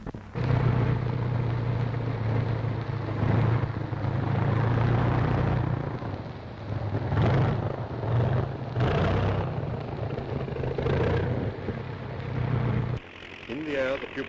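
Steady droning engine of a wartime training aircraft on its first takeoff with a pupil pilot aboard, loud and sustained with a low humming pulse, while a narrator talks over it throughout; the drone cuts away near the end.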